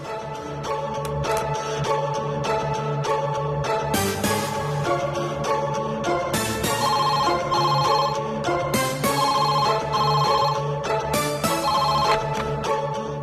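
Telephone ringing while a call is placed in a Tamil TV serial scene, a ringtone-like repeating tone running steadily throughout over a dense musical background, with no talk.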